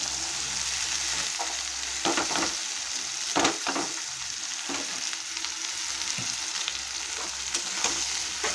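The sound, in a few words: pointed gourd and bitter gourd strips frying in oil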